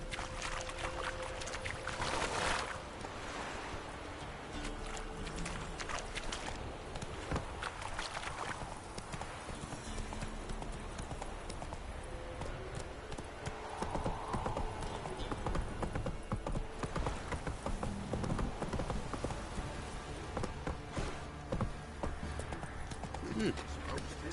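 Galloping horse in a PS4 video game, a steady stream of clip-clop hoofbeats running the whole time under game music, ambient noise and occasional talk.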